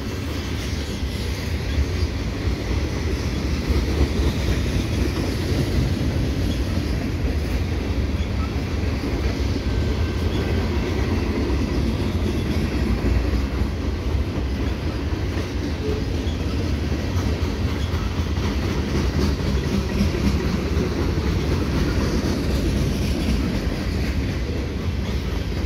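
CSX freight train with locomotives rolling past a rail crossing at Ile Perrot, a steady loud rumble and rattle of cars continuing throughout without pause.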